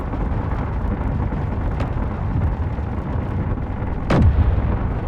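A turret in Space Engineers fires weapons amid a rumbling game soundscape, with one faint sharp shot followed a couple of seconds later by a louder booming blast that trails off.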